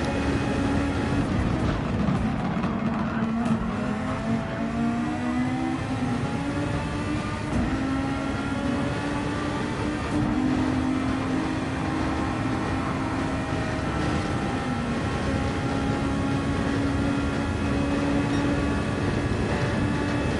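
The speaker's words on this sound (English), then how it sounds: "I'll give you a second to listen to the two engines of the Tyrrell and the Lotus here" Tyrrell and Lotus race cars in a racing video game give a continuous, loud engine drone whose pitch slowly rises and shifts as the cars run, with no talking.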